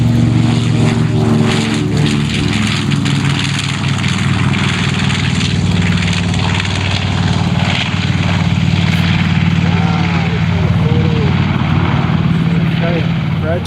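B-25 bomber taking off at an airshow, its radial engines droning loud and steady with a deep propeller rumble, while an announcer talks over it.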